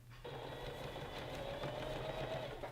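A sewing machine stitches a gathered sleeve onto a maxi dress, running as a close, steady mechanical whir with a fast regular rhythm from start to finish, with no talk.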